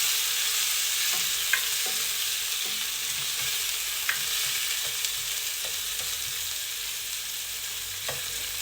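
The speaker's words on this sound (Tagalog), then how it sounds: "Lagyan natin konting mantika. Gisa lang natin konti." Oil sizzles steadily in a pan as food is sautéed, a constant close frying hiss with a few faint clicks of utensils, and no talking.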